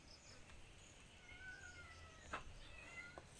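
Cats meowing outdoors, a couple of brief thin mews against a steady background of insect chirping and faint ambience.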